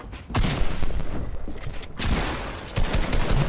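Gunfire in the video game Fortnite crackles in dense bursts of rapid shots, loud and close, with a short lull before another flurry resumes, heard without talk.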